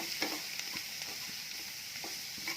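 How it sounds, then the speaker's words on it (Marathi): Sliced onion sautéing in hot oil with salt and turmeric, a steady soft sizzle broken by intermittent scraping stirs, moderately quiet and close, with no voices. "आता हे कांदा परतून घ्यायचा आहे"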